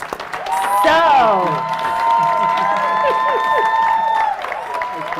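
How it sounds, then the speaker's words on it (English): Indoor audience applause and cheering at a grandmother's 100th birthday celebration, steady clapping mixed with a crowd voice and sustained sung or whooping tones, continuing for several seconds before easing. "Can we give Winnie a round of applause?"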